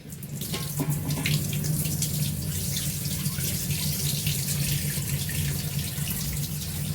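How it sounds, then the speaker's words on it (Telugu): Homegrown leafy greens being washed under a running kitchen tap, a steady close rush of water into a sink with light splashing throughout. "ఒకసారి వాష్ చేస్తే సరిపోతుంది అయినా మనం రెండు మూడు సార్లు వాష్ చేసుకుందామండి"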